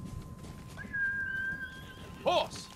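A horse in the video game Ghost of Tsushima gives a short, high whinnying call near the end, following a thin sustained whistle-like tone over low background game noise.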